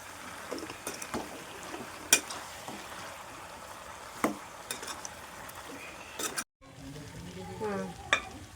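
Chicken pachhadi mixture cooking in oil, stirred with a spoon: steady close sizzling with several sharp scrapes and clinks, a brief silent gap near the end, then softer bubbling.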